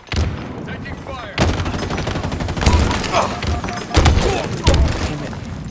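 Loud, dense gunfire from the video game Halo Infinite, with sustained automatic bursts and several heavier blasts stacked over one another, while a voice talks through the firefight.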